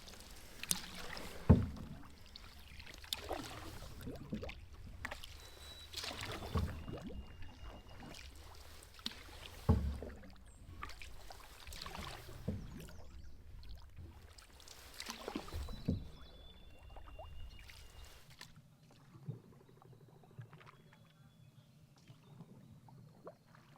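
A canoe is paddled across a calm, misty lake at dawn: soft rhythmic paddle strokes and water swishes recur every few seconds, close and quiet, then fade into near silence, with no talk.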